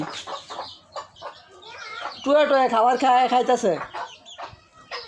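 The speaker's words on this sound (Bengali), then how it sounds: "মুরগি বাইরে বার করে রাখছি" Desi hens cluck repeatedly at close range on a poultry farm in Mymensingh, a burst of loud clucking in the middle, while a person talks over them.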